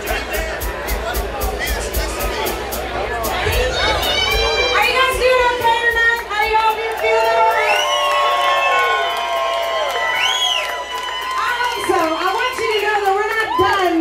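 A live comedy crowd in Sedalia cheers, whoops and shouts loudly throughout, a dense wash of voices with high whoops rising above the roar.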